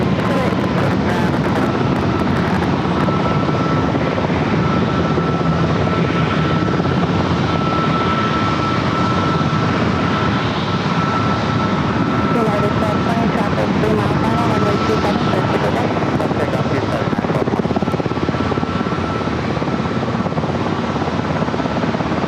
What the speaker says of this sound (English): Next arrival is United Airlines flight 369 coming up from SFO,